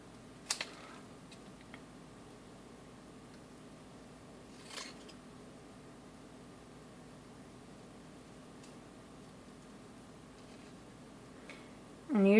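Faint snips of scissors fussy cutting cardstock for a Christmas card come in sparse, quiet clicks over a low steady room hum.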